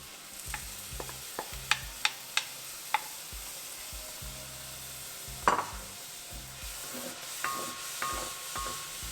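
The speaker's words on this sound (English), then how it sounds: "Next I'll add the tomato puree." Tomato puree sizzling in a hot kadai, a steady frying hiss with a spoon stirring and scraping the pan, plus a few sharp clicks. The sound is close and even throughout.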